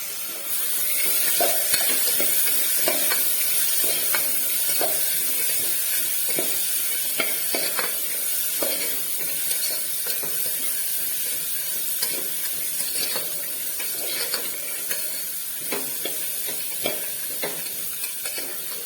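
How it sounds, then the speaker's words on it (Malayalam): Onions, potatoes and chickpeas sautéed with salt in a pan for Kerala-style roasted coconut chickpea curry, a continuous hissing sizzle broken by repeated scraping stirs, close and steady with no talk. "ഇനി ഇത് നന്നായിട്ടൊന്ന് വഴറ്റി എടുക്കാം."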